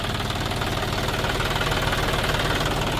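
A John Deere 5050D Gear Pro 4WD tractor engine runs steadily nearby with a loud, even diesel knocking throb and constant vibration, no voices over it.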